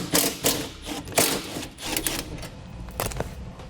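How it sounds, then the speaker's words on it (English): Two 10mm bolts are worked out of the tailgate latch on a 2018 Honda Ridgeline. Irregular ratcheting clicks and metallic bursts sound up close, with brief pauses between them. "we need to remove these 2 bolts."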